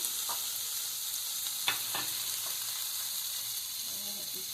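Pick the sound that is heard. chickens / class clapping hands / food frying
food frying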